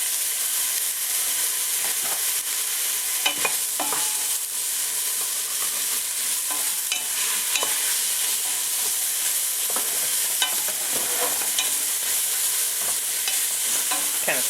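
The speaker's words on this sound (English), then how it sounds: "Kind of saute these, cook these a little bit" Vegetables sautéing in extra virgin olive oil in a pan where a chuck roast was seared, a steady loud sizzle with occasional stirring scrapes, continuous throughout.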